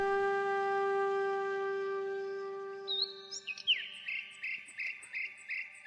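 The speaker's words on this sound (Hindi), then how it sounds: "सुबह होते ही चिड़ियां चहचहाती" Forest birds chirp in the morning, short repeated tweets emerging after a steady tonal hum fades, fairly close and moderately loud with no talk.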